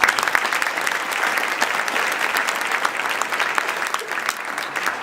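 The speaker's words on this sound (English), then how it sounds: "So I appreciate if you give the Meridian North office a hand clap." A roomful of people applauds the Meridian North office at a business meeting, steady dense clapping that holds evenly throughout, fairly loud and close.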